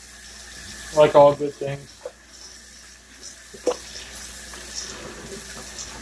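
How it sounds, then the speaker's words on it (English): Hot tap water runs while a Wagner 1891 cast iron skillet is scrubbed in a sink, a soft hiss broken by a few brief splashing bursts early on, with a voice speaking briefly. "Got the water on pretty, trying to get it hot, as hot as you can get it."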